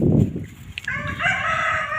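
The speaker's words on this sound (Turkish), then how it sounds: "Horoz da bir yerden bağırıyor." A rooster crows once, fairly close and clear, rising then holding a long wavering call over a steady outdoor background hum, during a light snowfall.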